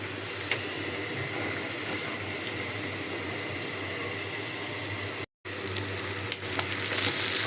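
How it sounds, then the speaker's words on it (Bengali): Onions frying in a pan after pigeon meat, for a dried-fish curry: a steady, dense sizzle runs throughout, briefly cut by a short gap, then resumes with a few faint clicks near the end. "কবুতরের মাংসটা ভাজার পরে আমি পেঁয়াজ দিয়ে দিলাম"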